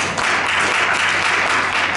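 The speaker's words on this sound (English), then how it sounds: "Can I get a hand clap for the best?" An audience at a youth event in a school, Avondale Academy in Topeka, Kansas, claps together, a dense steady wash of applause running loud and unbroken throughout.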